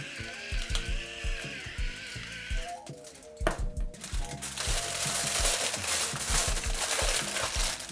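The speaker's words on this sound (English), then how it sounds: "we're gonna wrap our potatoes in aluminum foil" Aluminum foil crinkles and crumples in irregular bursts while potatoes seasoned with salt and pepper are wrapped, the rustling close and busy, growing denser and steadier toward the end.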